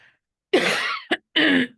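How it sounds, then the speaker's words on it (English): Two harsh coughs, the first long and rough, then a short catch and a second cough, close up with no talking. "Still have that cough, huh?"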